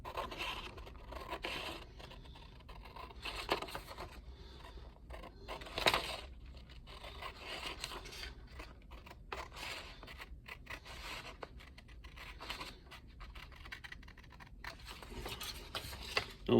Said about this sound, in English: I'll cut right up this center line right here